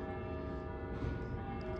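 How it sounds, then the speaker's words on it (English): Distant church bells chiming steadily from around the corner on a Salem, Massachusetts street, a sustained ringing wash under outdoor ambience. "Hearing some bells chiming here in the distance."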